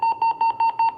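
A two-way radio gives five evenly spaced, identical electronic beeps in quick succession, loud and close, with no voices over them.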